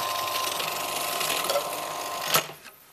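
A kitchen blender whirs steadily as it purées tuna tartare ingredients, running loud and continuous for a couple of seconds before a sharp clunk as it stops, leaving a brief fading hum.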